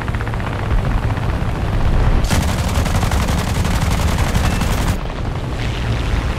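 Rapid automatic gunfire rattles through a PlayStation video game firefight, loud and continuous over a low rumble, with an especially intense sustained burst in the middle before easing back.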